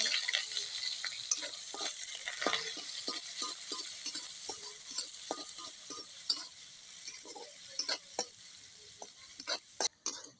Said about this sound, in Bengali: এখানে আমি এক বাটি পেঁয়াজ কুচি নিয়েছি, দিয়ে দিব